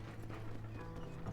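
Horse hooves clip-clop steadily in Red Dead Redemption, a continuous galloping patter over dense game ambience with no clear gaps.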